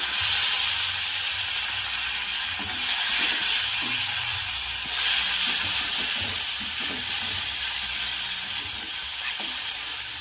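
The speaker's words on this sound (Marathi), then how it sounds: "दोन ते तीन अशा लांब चिरलेल्या मिरच्या ऍड करू यामध्ये टोमॅटो बारीक चिरलेला" Green chillies and finely chopped tomato sizzling in hot oil for sevai upma, a loud, steady frying hiss close by with faint stirring knocks underneath.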